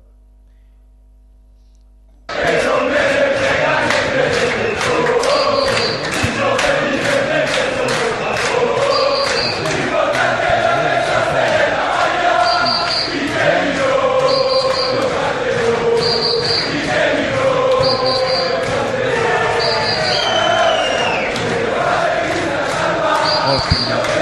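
Football fans cheering as a loud, dense crowd, with chanting and shouting that carries on steadily for over twenty seconds after a short quiet start.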